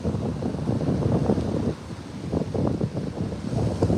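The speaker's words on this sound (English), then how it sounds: "And the sound of that ocean." Ocean waves washing onto a shore where people hunt agates, a steady broadband surf wash with rolling surges, mixed with wind buffeting the microphone.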